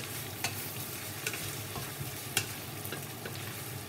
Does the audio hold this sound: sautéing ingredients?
yes